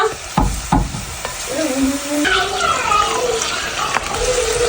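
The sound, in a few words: ginger frying in a pan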